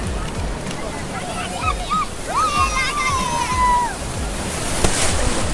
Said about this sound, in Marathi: लाटेवर लाट लाटेवर लाट